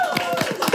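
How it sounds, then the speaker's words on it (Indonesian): A studio audience clapping for guests on a show, a brief spattering of hand claps lasting under a second, a few distinct claps at moderate distance. "beri tepuk tangan dulu."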